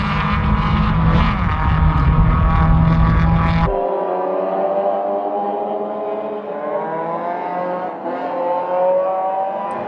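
Mazda MX-5 race cars howl through the final complex at Croft circuit: a loud, close engine roar cuts off abruptly, then a further car's revving engine sweeps up and down through gear changes, with no talk.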